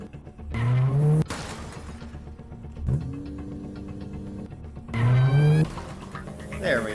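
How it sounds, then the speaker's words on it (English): A car in the horror video game Granny starts up and drives off, its engine revving in loud rising bursts with a steady running hum between them. "start the car, and we're gonna..."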